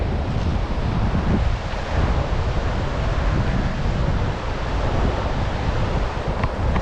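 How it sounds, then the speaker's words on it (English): A river with rapids runs past a campsite strewn with driftwood: a dense, steady roar of rushing water fills the whole stretch, loud and unbroken, with some wind on the microphone. "Nice little river around us."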